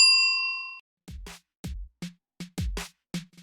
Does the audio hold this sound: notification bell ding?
yes